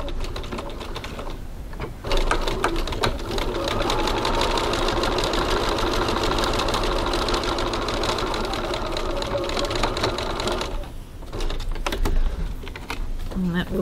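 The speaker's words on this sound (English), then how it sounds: "Now we're going to top stitch 3 millimeters, 1/8 of an inch along this bottom edge." A sewing machine runs steadily, topstitching 3 mm along the bottom edge of a wallet's coin pocket. After a brief start it runs as a continuous, close, fairly loud mechanical buzz for roughly nine seconds, then pauses briefly and resumes.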